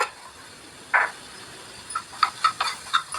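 An egg frying in a hot pan for a healthy lunch, giving a steady soft sizzling hiss with a louder crackle burst early on and a series of short pops and spits toward the end.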